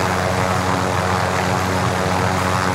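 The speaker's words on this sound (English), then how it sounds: "Helicopter." A helicopter in the Call of Duty Warzone video game, a steady loud droning rotor and engine hum running continuously, close and unbroken, with no talk over it.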